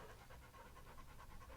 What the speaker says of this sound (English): You can probably hear the panting.